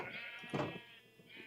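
A Minecraft sheep lets out a short bleat, fairly quiet, with a faint second bleat trailing off near the end.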